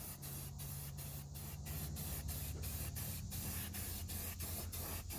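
Continuous hiss of a spray can or spray gun applying etch primer to an engine, steady and close, with faint regular pulses and a low hum beneath.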